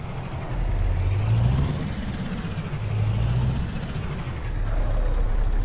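A Scania R truck engine drones inside Euro Truck Simulator 2 with a sound-fixing mod. A steady low engine rumble rises and falls gently in pitch as the truck changes speed, with no talking.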